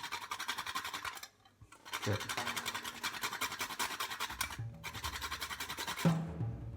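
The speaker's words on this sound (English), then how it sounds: "I'm using the traditional Guatemalan style of nutmeg scraping." Whole nutmeg scraped against a grater in traditional Guatemalan style, rapid rhythmic rasping strokes in two long bursts separated by a brief pause, close and fairly quiet with no voices.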